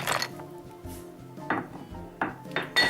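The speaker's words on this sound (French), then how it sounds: "Ensuite, on va remuer jusqu'à temps que voilà, le chocolat soit complètement fondu." A utensil clinks and scrapes against a bowl while chocolate is stirred into hot, just-boiled cream for ganache; the strokes are quiet and come in a few short, irregular knocks.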